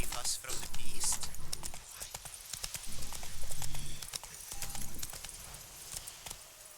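Geralt's horse Roach trotting in The Witcher 3 Blood and Wine, rhythmic hoof clip-clop on ground moving along steadily, with someone speaking over it and jangling tack.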